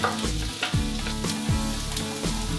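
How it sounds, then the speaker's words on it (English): A cup of onions and a heaping tablespoon of garlic sizzle in hot oil in a stir-fry pan, a loud, continuous frying crackle with a few clanks of a utensil and no talking. "Start frying our onions."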